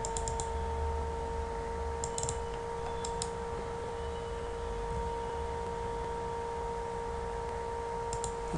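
Typing on a computer keyboard, with scattered bursts of quick clicks heard faintly over a steady electrical hum and background hiss, no one speaking.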